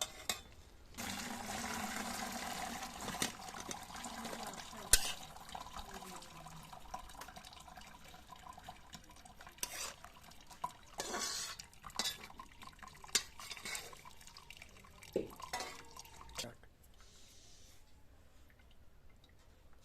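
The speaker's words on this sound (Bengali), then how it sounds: "এবার আমরা জলটাকে ঝারিয়ে নেব।" Boiled taro stems are pressed to drain off their cooking water in a kitchen, giving a soft trickle and splash broken by clinks of a pot and utensils before the sound fades to near quiet.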